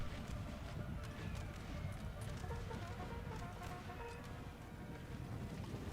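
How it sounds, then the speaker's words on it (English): Horse hooves clop in a steady patter during a battle in the video game Napoleon: Total War, mid-distance, set against a constant low rumble of battlefield ambience. "We've got a stray horse coming here."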